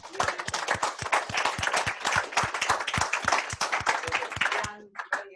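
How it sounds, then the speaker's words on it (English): A round of applause for students at an energy policy lecture, made up of dense, individually distinct claps from a modest audience, steady for several seconds before breaking off into a few scattered final claps. "maybe we just give them a round of applause for these"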